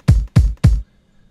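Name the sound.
bass drum sample in a hip-hop beat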